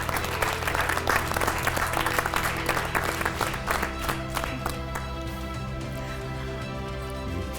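A studio audience applauds throughout during an Armenian television business show, a dense, steady wash of clapping that stays loud for the whole stretch with no talk over it.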